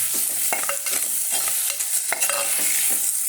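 Tomatoes are added to sautéing onions in a pan and stirred, with sharp repeated spoon scrapes and clinks over a close, steady sizzle.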